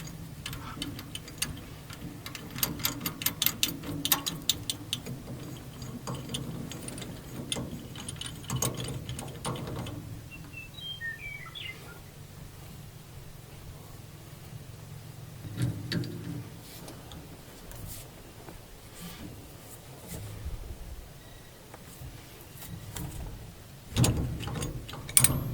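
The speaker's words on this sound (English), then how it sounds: "the steering wheel remover kit. The screws, the bolts with the right thread go on there," Bolts from a steering wheel remover kit being threaded into a 1959 Ford F100 steering wheel, heard as quiet repeated ticking and ratcheting clicks in irregular bursts, close but faint against a low background.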